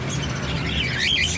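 Birds chirping outdoors, a cluster of high, wavering tweets and calls over a constant low background hum, no talking.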